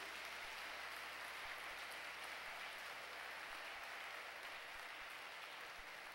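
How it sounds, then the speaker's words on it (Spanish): Dense, steady applause from a church congregation fills the room evenly for the whole stretch, with no voices rising above it. "Dele un fuerte aplauso a Dios."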